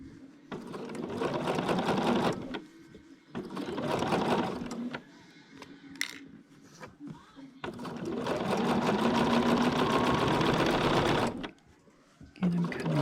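A sewing machine runs in long continuous bursts stitching a long seam, pausing briefly between runs, loud and close with a steady mechanical whir.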